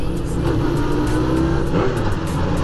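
A loud, close Honda CB750F Integra motorcycle engine drones steadily with a low rumbling tone, holding a constant roar throughout.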